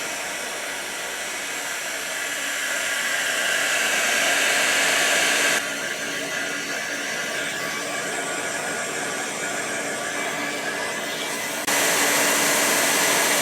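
A heat gun blows a steady, loud roaring hiss onto a Suzuki DR650 motorcycle carburettor, shifting slightly in tone partway through as it keeps running without a break.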